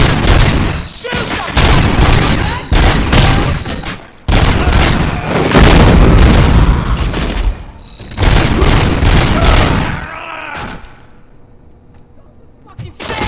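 Heavy gunfire from RoboCop: Rogue City, with repeated loud booming shots and bursts packed through most of the stretch before fading to quieter ambience, while voices shout over the shooting.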